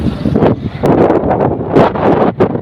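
Strong gusts of wind buffet the microphone on a high bridge, roaring and rumbling in heavy surges with brief lulls, close and loud.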